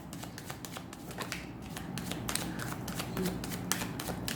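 Tarot cards being shuffled by hand in a steady run of dense riffling and slapping, close and fairly quiet, with no talking.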